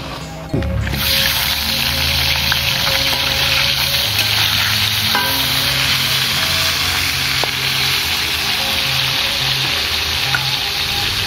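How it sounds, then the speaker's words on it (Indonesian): Salted fish frying in a pan, with a steady loud sizzle and crackle after the fish drops in, plus occasional clinks from stirring. "saat can di oseng urang asinna urang digoreng heula nya"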